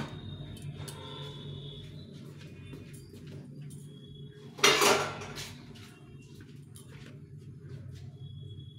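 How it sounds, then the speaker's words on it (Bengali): A bowl is set onto a stand inside a saucepan heating on a gas stove, giving one sharp metallic clatter in the middle of an otherwise quiet kitchen background. "এখন এই বাটিটা বসিয়ে দেব"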